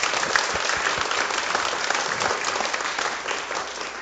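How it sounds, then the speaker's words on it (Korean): A church congregation applauds during a Friday prayer service, dense continuous clapping from many hands filling the room at steady volume throughout. "모두 감사하다는 마음으로 박수 한번 치도록 하겠습니다."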